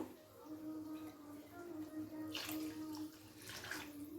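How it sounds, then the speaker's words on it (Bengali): Water pours into a pot of rice for Basanti pulao, a soft steady stream with splashing bursts, fairly faint and close. "তো সেই জন্য আমি এখানে 8 কাপ জল দিয়ে দেবো"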